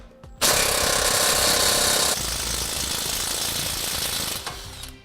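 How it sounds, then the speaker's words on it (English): An air or impact wrench with an 18mm socket loosens a rear shock bolt at the subframe of a 2009 vehicle, a loud harsh rattling burst of about two seconds followed by a lower, steadier whir that fades out. "putting an 18mm wrench on the nut side and an 18 socket on the bolt itself"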